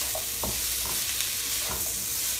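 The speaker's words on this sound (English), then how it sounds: "you just want to stir fry the ingredients together" Brown rice bowl ingredients stir-fry in a pan, a constant bright sizzle with a few light scrapes and taps of a utensil turning the food.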